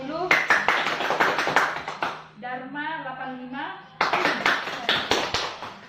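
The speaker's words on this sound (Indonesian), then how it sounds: "kasih tepuk tangan ya" A high-school class claps hands for a classmate as grades are read aloud, two bursts of quick sharp clapping near at hand separated by a teacher's voice.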